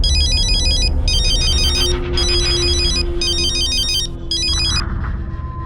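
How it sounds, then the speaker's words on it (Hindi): A phone ringtone for an incoming call repeats in four bright electronic bursts with short gaps between them, then stops, over a low room background. "हाँ, अब किसका फोन आया?"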